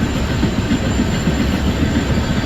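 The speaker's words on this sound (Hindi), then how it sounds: "ये कोई ट्रेन भी शंट होती हुई यहाँ पे Ghaziabad Delhi express platform number 4 पे शंट होती हुई" Simulated train shunting at Ghaziabad platform 4 in Indian Train Simulator, a steady, loud low rolling rumble of rail wagons with faint wheel noise throughout, no voices.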